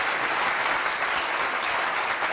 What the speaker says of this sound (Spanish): les quiero pedir un fuerte aplauso para este increíble panel